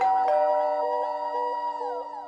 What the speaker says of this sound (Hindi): अबे डोरबेल बज रही है